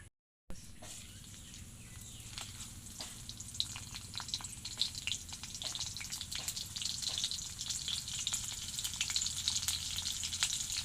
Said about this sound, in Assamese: এতিয়া ভাজিব লাগিব।